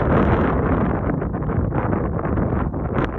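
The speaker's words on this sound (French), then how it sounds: "Ce vent." Strong wind roaring steadily across a mountain summit in New Zealand, a loud continuous buffeting rush that hits the microphone with no voices.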